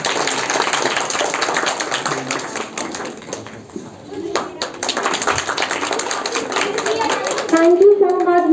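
Audience at a Kanawar Valley Public School Environment Day event clapping hands, steady dense applause that dips briefly midway then resumes, with voices and talking mixed in.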